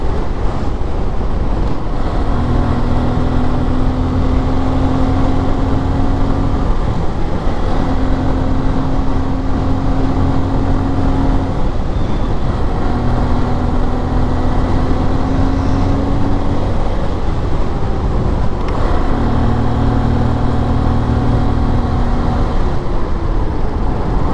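A steady motorcycle engine drone with shifting tones, cruising at speed at night on the Ambet ghat road, under constant wind rush against the microphone, with no talking.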